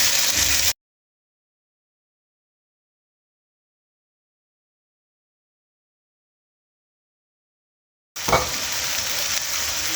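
Macaroni with soy sauce being stirred in a frying pan gives a close sizzle and stirring noise in two short bursts, one at the start and one near the end, with long silence between them.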